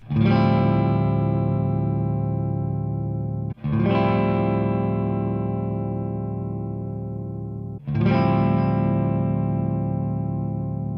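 Three strums of a single electric guitar chord through an amplifier, each left to ring out and slowly decay before the next.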